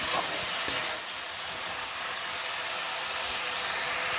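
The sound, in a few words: stirring washed potato greens in a cooking pan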